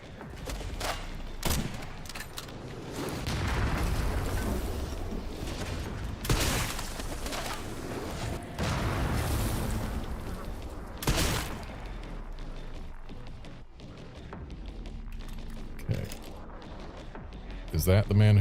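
Gunfire in Resident Evil Requiem: scattered loud shots and booming blasts ring out across the stretch, some close and sharp, others duller, with speech heard in between.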